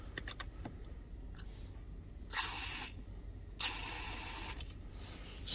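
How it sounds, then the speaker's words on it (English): An aerosol spray can hisses in two strong bursts, each about half a second long, as it flushes crud out of the ignition lock of a 2019 Ford F-250 Super Duty. Light clicks and handling noises come before and between the bursts. "I'm gonna spray this up and watch the stuff flood out of this."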